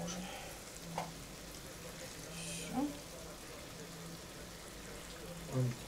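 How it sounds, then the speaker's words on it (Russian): Fish frying in a pan as the heat is turned up, a faint continuous sizzle beneath intermittent talking, with a few brief louder bumps. "рыбка у нас, смотрите, жарится. Сейчас она делаем побольше огонь, чтобы она у нас ужарилась. Рыбка у нас жарится."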